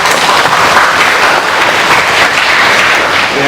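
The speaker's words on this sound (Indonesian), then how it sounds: "Tepuk tangan dong buat mereka." Audience applause for a Hadrah music team at a halal bihalal gathering, loud continuous clapping from a large crowd, close and sustained throughout.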